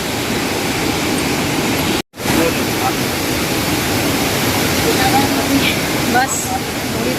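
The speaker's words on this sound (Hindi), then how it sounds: "कितनी तेज़ है, कितनी तेज़ आवाज़ है पानी की" Loud, steady roar of rushing river water near a bridge at the India–Nepal border, close and continuous for several seconds with a momentary cut near the middle.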